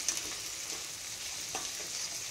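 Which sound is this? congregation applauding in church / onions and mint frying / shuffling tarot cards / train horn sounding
onions and mint frying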